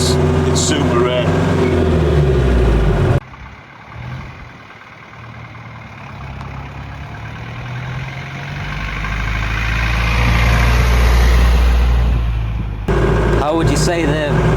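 A vintage Ford Thames diesel minibus drives along with a steady low engine drone that rises and swells gradually, heard from inside, with people talking over it at the start and end.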